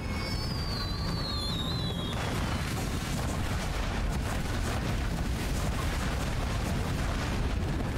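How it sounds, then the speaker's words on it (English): Fireworks going off in the video game Trek to Yomi amid a spreading fire, a dense continuous rumble of bangs and crackles that stays loud throughout, with a whistling streak near the start. "fireworks."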